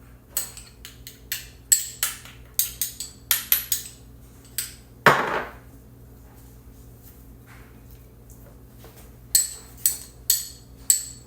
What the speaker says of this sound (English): use the back of my spoon here.